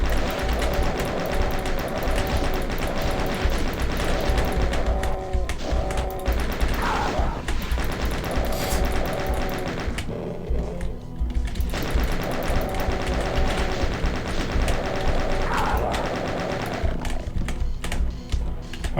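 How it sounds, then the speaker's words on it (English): Arachnotron enemy in the Doom video game firing, dense rapid mechanical bursts and shots over loud continuous game music and effects, with short lulls midway. "You can hear the Arachnotron."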